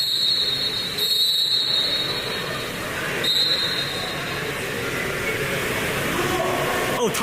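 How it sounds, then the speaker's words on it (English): A referee's whistle at a 14U youth basketball game: bright, shrill tones near the start and again around three seconds, heard over constant crowd and court noise. "Oh, there's a whistle."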